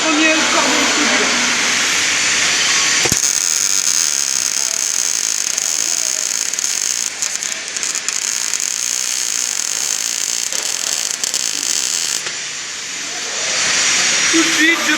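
Steady, loud hissing and crackling as a metal frame is welded, continuous for the whole stretch with brief breaks near the start and end, close to the listener.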